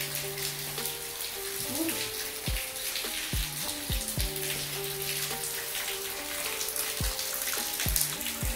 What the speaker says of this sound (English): I can hear water dripping back in there.